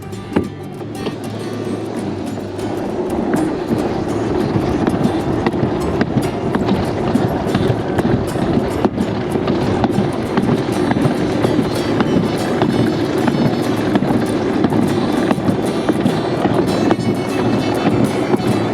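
An alpine coaster sled runs down its track outdoors, giving a steady loud rushing, rattling roar with heavy wind buffeting across the whole ride.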